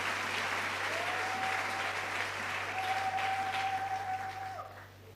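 A church congregation applauds steadily for about five seconds, a dense wash of clapping that holds level, with a faint sustained tone running through it, before tapering off at the end.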